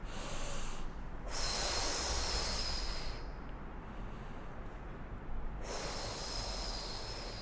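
A pregnant woman doing a Pilates breathing exercise, with long, close, audible breaths alternating between drawn-in inhales and released exhales.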